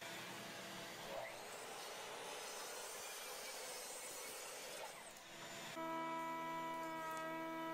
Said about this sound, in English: I'll cut my pieces out on the miter saw.